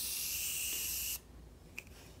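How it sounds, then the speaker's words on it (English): A Morphe Continuous Setting Mist bottle sprays a fine makeup setting mist in one steady, loud hiss lasting about a second, stopping abruptly, followed by quiet room tone and a small click. "So with this one, you have an awesome continuous spray."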